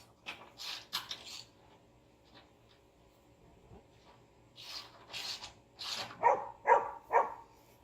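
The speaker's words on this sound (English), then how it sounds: "in the background barking for us" A dog barks several times in the distance, the short yaps coming in scattered bursts with quiet gaps between them.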